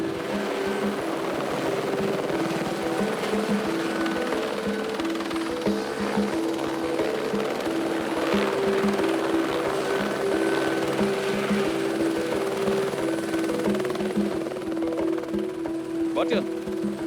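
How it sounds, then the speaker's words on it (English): A helicopter setting down during a wildlife rescue in Kenya: a steady, loud rotor thump and engine drone runs throughout without letup, with a voice talking over it. "looks for a place to set the chopper down"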